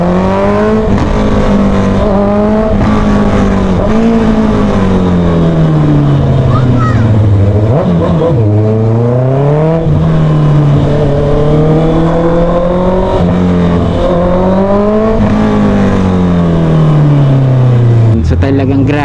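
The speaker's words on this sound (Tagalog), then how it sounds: "si ZX25R 4-cylinder na screamer bike" A Kawasaki ZX25R inline-4 motorcycle engine screams at high revs, loud and continuous, rising and falling in long sweeping pitch runs with brief dips between pulls.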